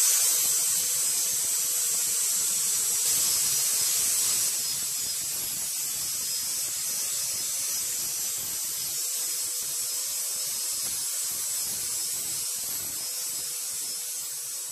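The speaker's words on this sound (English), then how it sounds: "clean and dress this up a little bit so it's nice and smooth, and get a bit more of this paint and rust off" A small power sanding tool buzzes steadily as it strips paint and rust from a Hinckley Triumph Bonneville hardtail motorcycle frame. The buzz is close and continuous and drops slightly in level partway through, with no speech.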